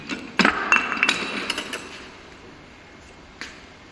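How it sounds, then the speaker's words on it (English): Chisel tapped with a mallet to pare small waste from a wooden dovetail joint: a few sharp knocks and clicks in quick succession early on, then quieter, with one last faint tap near the end. "the extra small parts are removed by gentle operation of chiseling"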